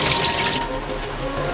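Tap water gushing into a sink while rice is washed a second time in a colander, a close, loud splashing stream that eases slightly after the first half second and keeps running.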